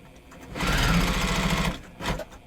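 A sewing machine stitches a short seam on a crazy patch square, giving a close, loud, rapid mechanical chatter for about a second, followed by a brief second burst.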